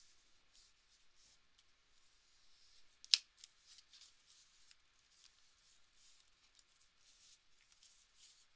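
Scissors cut a paper page during a crafting project, quiet crisp snips and rustles scattered throughout, with one sharp louder snip in the middle.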